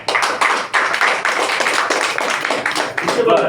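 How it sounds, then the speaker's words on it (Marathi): A group claps steadily for a few seconds, a dense patter of hands without pause, fairly close. "ज्यांचे ऍडमिशन झाले त्यांच्यासाठी टाळ्या."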